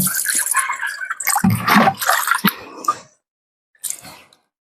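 Squid being washed in water, with close splashing, sloshing and dripping in irregular bursts, a short quiet gap, then a final brief splash.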